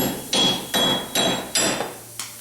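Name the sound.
sledgehammer knocking out wheel stud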